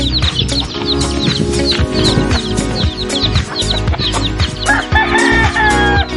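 Loud chickens clucking and a rooster crowing, with high peeping of chicks throughout, busy and close, no talking.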